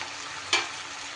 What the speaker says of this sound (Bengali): এইবার ভেজে রাখা ভেন্ডিটা আমি অ্যাড করে দিলাম